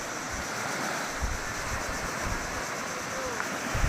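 Sea waves wash steadily onto a beach, a broad continuous roar of surf with wind noise buffeting the microphone and a few low thumps from gusts.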